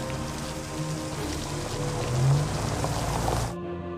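Heavy storm rain pours steadily in an Indonesian horror film, a dense continuous wash with a low rumble swelling briefly near the middle before cutting off abruptly.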